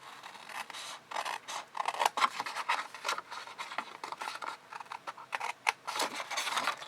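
Scissors trimming card for an A4 wash bag style gift box, a close run of crisp snipping and rubbing cuts in uneven quick bursts, fairly quiet and with no talk.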